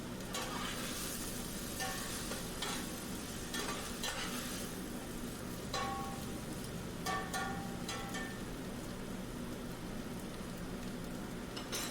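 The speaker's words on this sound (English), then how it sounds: "We want these to saute a bit in the oil as well." String beans and potatoes sauté in oil in a pan, a steady, close sizzle and crackle running throughout, broken by occasional scraping stirs.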